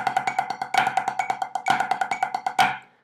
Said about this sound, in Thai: ตอนที่เราตีแฟลมทริปเปิลพาราไรเดลมันยังอาจได้ยินอยู่นะฮะอย่างเงี้ย